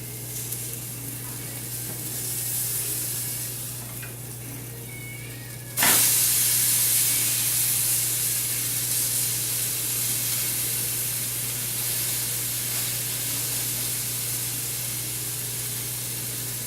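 An omelet freshly flipped in a hot pan bursts into loud, steady sizzling that starts abruptly and carries on evenly, close up and alone.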